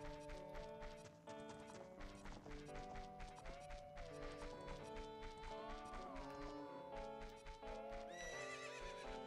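A horse in The Legend of Zelda: Ocarina of Time whinnies over a constant stream of clip-clopping hooves, with loud, busy game sound underneath and a final neigh rising near the end.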